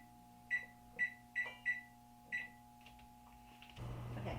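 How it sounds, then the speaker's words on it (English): An oven timer sounds a series of five short electronic beeps at uneven intervals, fairly quiet and alone over a low steady hum, then a broader rushing noise starts near the end. "we will come back to you when the buzzer goes"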